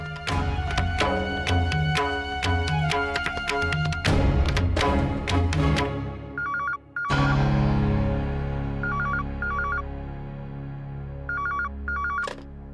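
A telephone rings after a call is placed in a Hindi television drama, with steady repeating electronic ring tones, loud and close, over a background of dramatic music swells and no speech.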